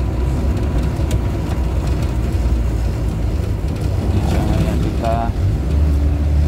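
A Suzuki Carry drives along a road with a steady low engine rumble and road noise throughout, as it prepares to overtake near a junction and bend; a brief tonal whine appears near the end, and some speech may sit faintly in the background.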